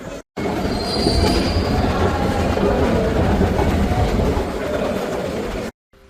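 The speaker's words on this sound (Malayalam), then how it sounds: "ഈ കാണുന്നതാണ് മെട്രോ" A Lisbon metro train rumbles past loudly and steadily, wheels squealing and rattling on the rails throughout.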